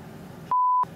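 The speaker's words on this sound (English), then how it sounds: "Note the warning lights and alarms as we become airborne" An aircraft cockpit warning alarm sounds during takeoff as the plane becomes airborne, a single steady electronic tone lasting about a third of a second, loud against the constant engine and cabin noise.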